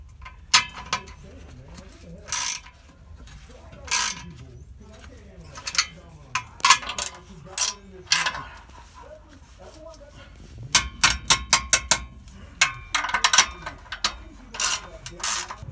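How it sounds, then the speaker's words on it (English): A ratchet tightening the clamp on a stainless exhaust system under a Dodge Cummins 5.9 pickup, heard as bursts of close, sharp clicking spread between quieter stretches, with someone talking over parts of it. "Now I'm tightening it all back down."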